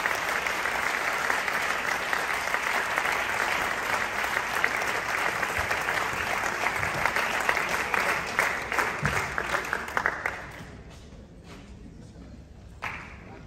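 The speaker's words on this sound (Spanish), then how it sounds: "un fuerte aplauso, por favor" Loud, sustained applause from an audience at a photography award ceremony, dense clapping that continues for about ten seconds and then thins out into a few scattered claps.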